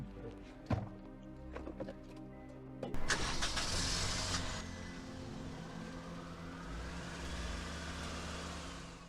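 A car engine cranks and starts after a few sharp door thunks, then settles into a steady, fairly quiet idle that carries on for several seconds.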